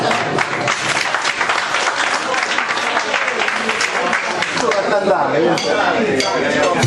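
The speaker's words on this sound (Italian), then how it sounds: "Applauso." A dance-show audience claps and applauds continuously and loudly throughout, with a few voices mixed into the dense clapping.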